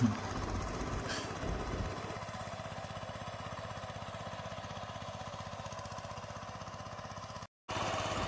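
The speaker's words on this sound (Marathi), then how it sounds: "मामा बघा ट्रॅक्टर चालवत आहे" A tractor engine chugs steadily with a fast, even knocking beat while being driven, loud and constant throughout apart from a brief dropout near the end.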